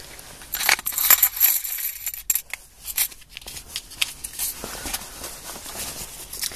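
Coins from a coin roll are handled and spilled out, with loud metallic clinks and jingles arriving in irregular bursts up close and no talking.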